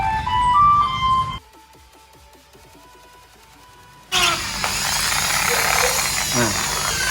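A power drill whines at steady pitch, stops, then a louder grinding burst as the bit bites through material while drilling a hole to mount a handlebar clamp, with no talking.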